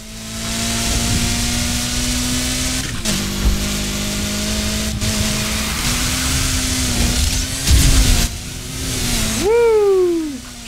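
A car engine in Need for Speed Heat holds a steady, loud drone while drifting, with short lifts and gear changes breaking the tone, then a sharp rev that rises and falls near the end.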